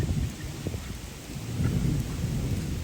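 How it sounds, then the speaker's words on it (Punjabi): Heavy rain during a thunderstorm in rural Punjab, a faint, steady wash of rain with a low distant rumble underneath, no voices. "ਮੈਨੂੰ ਮੀਂਹ ਪੈਂਦਾ ਅੰਦਰ ਆ ਗਈ"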